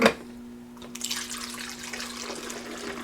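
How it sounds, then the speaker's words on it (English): Creek water is poured into a camping water filter, a soft continuous trickling and splashing after a brief knock, fairly faint and without talk. "I'm just going to shake it up and I'm just going to pour it right in there."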